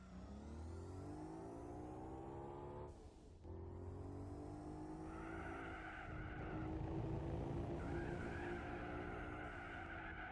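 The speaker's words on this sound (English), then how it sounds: "Sliding around everywhere." In Gran Turismo 4, a race car on Trial Mountain slides and skids with its engine revving, while tire squeals rise and fall over the drone, including one brief dip. No one speaks.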